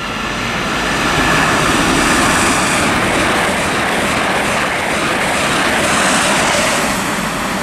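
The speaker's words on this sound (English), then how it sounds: "passing through now, we've got a Great Northern service to London King's Cross" A Great Northern passenger service to London King's Cross passes through Stevenage station on the East Coast Main Line, producing a loud, sustained broadband roar that holds steady throughout with no talk.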